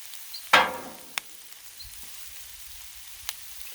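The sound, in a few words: seafood boil sizzling on a griddle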